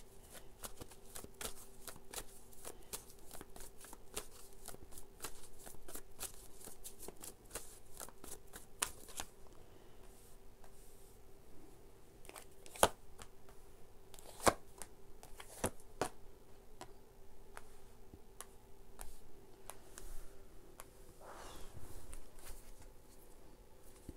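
A deck of tarot cards is shuffled over and over in a quiet room, with rapid riffling flutters and soft slaps at close range, a few sharper taps between bursts, and no voices.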